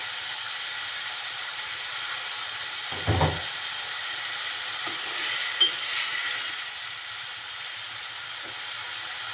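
Small new potatoes and spices are stirred in a hot pan, with a faint continuous sizzle, one brief low thump, and a couple of soft scraping stirs.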